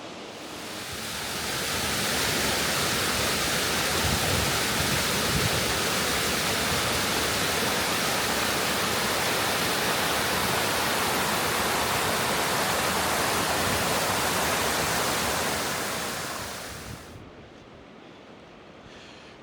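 Injebreck Waterfall on the Isle of Man roars as a dense, steady rush of water, loud and close, holding constant before cutting off abruptly near the end.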